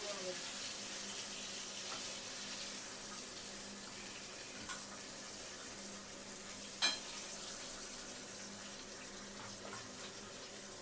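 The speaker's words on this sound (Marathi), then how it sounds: "चला आता आहे ना थोडं मच्छीचा फ्राय होऊन जाईल." Pomfret fish frying in a pan, a steady low sizzle with faint background noise and one brief clatter partway through.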